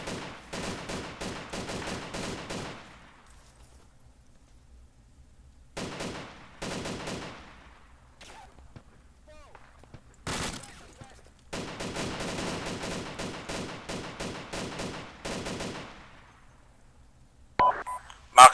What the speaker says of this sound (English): Taking fire southwest.